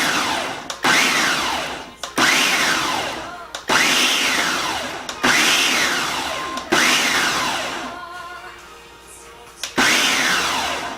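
A food processor pulses almond flour and cinnamon in about seven loud whirring bursts, each a second or so long and separated by brief pauses, with a rising then falling motor pitch in each burst.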